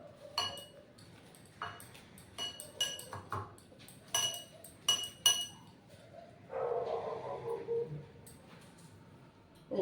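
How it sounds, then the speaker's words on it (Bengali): Boiled okra, potato and sweet potato mashed by hand in a bowl for fritters, heard as close, irregular clinks and taps against the dish followed by a softer squishing stretch. "এবার এটাকে চটকাতে হবে।"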